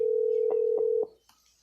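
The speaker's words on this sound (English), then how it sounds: "You should be able to hear it ringing." A steady telephone tone sounds for about a second, then cuts off, leaving near silence with a faint click afterward.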